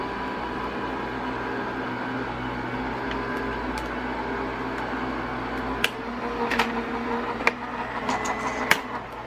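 A die-cutting machine pressing Halloween dies runs with a steady, even mechanical hum and whir, joined near the end by a few sharp clicks and knocks.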